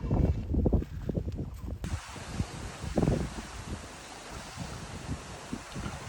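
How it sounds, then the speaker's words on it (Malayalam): Cold wind gusting beside a river under light drizzle, a broad steady hiss with microphone buffeting and soft splashing, loudest in the first two seconds. "നല്ല തണുത്ത കാറ്റും അതുപോലെ തന്നെ ചാറ്റൽ മഴ ഉണ്ട്"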